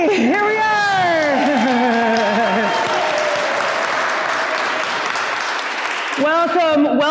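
Congregation clapping at the start of a Universalist church service: steady, loud applause from a room of people, with a voice speaking over it at the beginning and again at the end.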